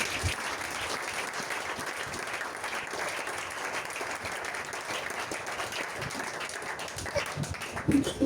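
A church congregation claps and cheers in continuous applause lasting several seconds, a dense crackle of many hands at moderate distance.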